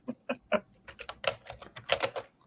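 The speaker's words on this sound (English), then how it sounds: "Jennifer's typing." Someone types on a computer keyboard, an uneven run of close, crisp key clicks that come in short bursts, with no voices.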